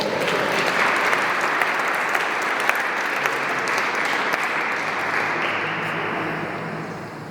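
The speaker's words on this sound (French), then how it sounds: "S'il est vraiment ressuscité, acclamons très fort." A church congregation applauds loudly and steadily at an Easter Sunday Mass, dense clapping from many hands filling the space for several seconds before easing slightly at the end, with no voices over it.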